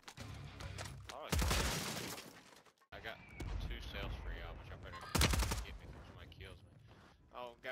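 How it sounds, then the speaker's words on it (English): Enemy gunfire in the video game Warzone 3: two sharp, loud bursts of shots crack out a few seconds apart over busy game sounds, with voices talking. "God, he's shooting at me."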